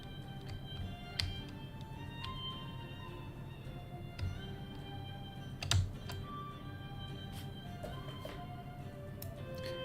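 Computer keyboard typing in scattered bursts of soft clicks with occasional louder taps, steady quiet room tone underneath and no talking.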